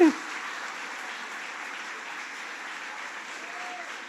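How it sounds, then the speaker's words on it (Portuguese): Church congregation at a men's congress applauding for Jesus, a steady wash of clapping from a large crowd held evenly throughout. "Aplaude a Jesus aí, vai, aplaude aí"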